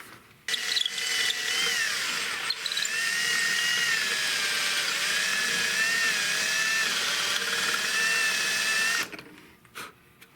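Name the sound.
power drill drilling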